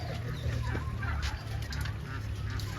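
Khaki Campbell and Muscovy ducks calling on the open ground of Sood Farm in Bassi Kikran village, Hoshiarpur, a dense, continuous flock chatter of quacks and clucks at close range.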